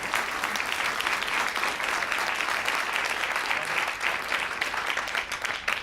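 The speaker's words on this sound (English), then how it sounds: "let's go ahead and give a round of applause" Steady audience applause at an asteroid initiative industry and partner day event, many hands clapping continuously at even loudness for several seconds with no talk.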